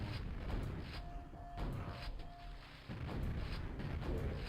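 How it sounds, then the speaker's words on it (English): A grenade blast in the 1996 shooter Quake, heard as heavy booming rumbles under continuous noisy game action, with no clear single peak. "I walked into his grenade."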